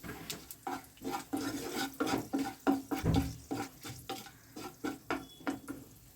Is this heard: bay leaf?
yes